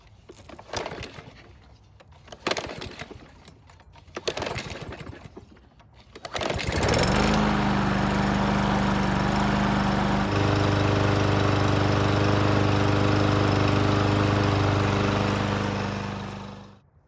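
A lawn mower starts up and runs steadily through thick autumn leaf litter, its loud, continuous engine drone holding for about ten seconds before dying away, with some rustling and handling noises beforehand.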